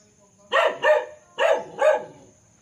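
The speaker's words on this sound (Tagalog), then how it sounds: "Yan, may aso sa harapan." A dog at the front of a farmhouse property barks four times in two quick pairs, each bark clear and fairly close, with quiet background between the pairs.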